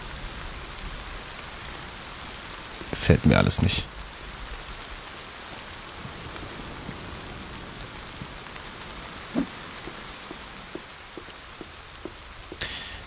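Rain falling in the survival game The Forest, a soft steady patter of fine noise throughout, with a brief louder rustle and someone speaking quietly over it.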